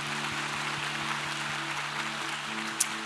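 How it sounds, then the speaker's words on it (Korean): A church congregation claps in thanks during an Easter Sunday service, a steady wash of applause filling the room over a sustained organ or keyboard chord. "우리 감사의 박수로 감사합니다"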